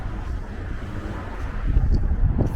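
Wind buffets the microphone outdoors in Mill Basin, Brooklyn, in low rumbling gusts that grow stronger toward the end, with faint rustling and no talking.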